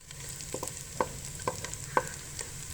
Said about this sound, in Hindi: लो फ्लेम पर हम जो है प्याज को पका रहे हैं